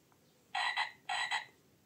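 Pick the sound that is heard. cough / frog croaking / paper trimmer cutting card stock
frog croaking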